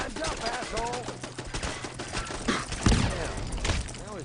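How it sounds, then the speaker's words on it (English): Rapid automatic machine gun fire in Fallout 4, with dense, close bursts of shots stacked over one another and heavier thuds mixed in, while a voice talks over the shooting. "Okay, let's do the machine gun first."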